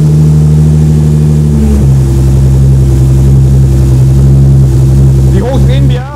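Car engine on a dynamometer test bench, loud and close, holding a steady high-revving drone that shifts pitch, with voices talking over it near the end.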